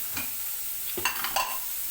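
Stirring in a pan while making katla fish curry, a soft background sizzle broken by a few quick scraping strokes of a spoon, close up with no talking.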